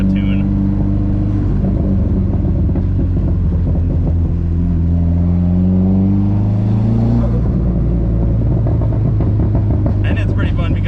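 A Dodge SRT-4 with a turbo drives along, its engine droning and rumbling loudly from inside the car, with the pitch rising through a gear and dropping back, while people talk over it.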